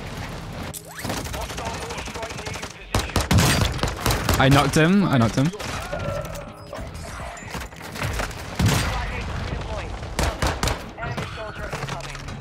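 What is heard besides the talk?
gunfire and explosions in a battle royale video game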